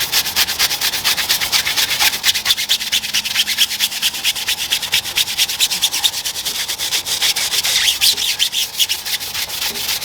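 Rapid, rhythmic scrubbing of a stiff brush working over dirty, grubby car tyre rubber, close and steady for the whole stretch with fast repeated strokes and no talk.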